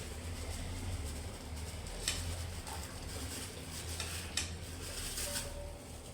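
Payesh in a pot having sugar stirred in, soft scraping and a few light metallic taps of a spoon against the pot over a steady low background hiss, with no speech.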